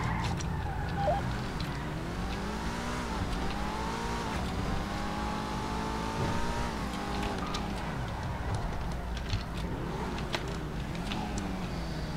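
Car engine in the GTA roleplay game revving and accelerating through repeated gear shifts, rising and falling harmonic whine under a steady tone, continuous and moderately loud with no talk.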